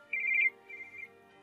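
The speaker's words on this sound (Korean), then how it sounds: "어머니한테 전화 오네?" A phone rings with an incoming call in a quiet indoor room, a short bright electronic ringtone phrase followed by a softer repeat, with no talking.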